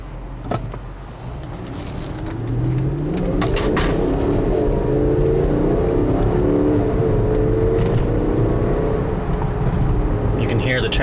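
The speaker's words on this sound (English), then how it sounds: "You can hear the transmission really shifts well. The V8 sounds great." A 2004 Volkswagen Touareg V8 accelerates on a test drive, the engine note climbing through several rising sweeps as the transmission shifts, steady road noise underneath and loud inside the cabin.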